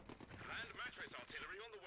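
Gunfire in the Company of Heroes 2 strategy video game, a quiet, brief burst of rapid shots under a low background of game noise.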